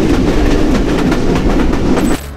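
Rocket Mail passenger train on broad gauge track in Bangladesh, near Khulna, rushing past with steady loud rumble and rhythmic clickety-clack of wheels over rail joints, cutting off abruptly at the end.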